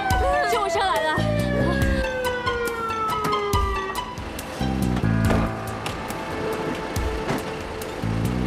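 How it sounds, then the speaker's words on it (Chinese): An ambulance siren wails as it pulls up at a rescue scene, its sweeping tone loud and then breaking off, followed by rhythmic clattering and thumps. "救护车来了。"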